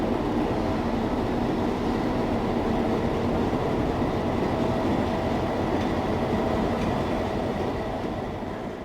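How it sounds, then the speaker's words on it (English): A model railroad locomotive runs along its track, a steady continuous rumble and rattle that stays loud and close throughout without any talk. "But the main locomotive I use is this one, eh?"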